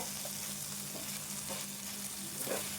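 Prawn curry with softened tomato fries in a pan, giving a steady, even sizzle that stays close and fairly quiet throughout with a few faint stirring touches.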